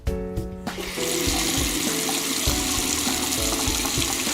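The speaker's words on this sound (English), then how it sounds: "Users start using water." Water gushes from a tap into a sink, a steady close splashing rush after a brief quieter start, running on without pause and with no voices.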